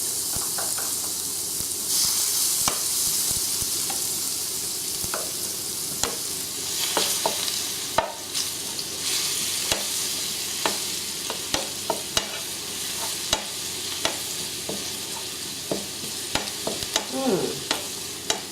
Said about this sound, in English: turn the heat to the lower, and I'm gonna grill chopped garlic to garnish